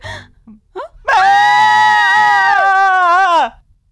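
A woman lets out a long, loud, sustained scream of fright lasting over two seconds, preceded by a few short gasps, in a dubbed South Indian action film scene.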